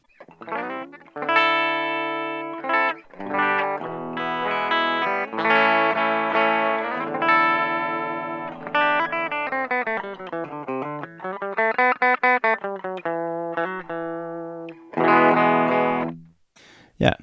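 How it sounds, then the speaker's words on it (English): Electric guitar played through a wah-wah pedal pressed down toward the toe, giving a bright, cutting high-mid tone on a long run of sustained notes, bends and slides, loud and continuous with short gaps and no voices. "And then you press the pedal down and you get the frequency boost in the high mid section."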